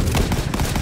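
Gunfire from a World War 2 shooter video game, with a Remington 12-gauge shotgun among the weapons, sounding as a dense, loud continuous burst of shots close up with no voices.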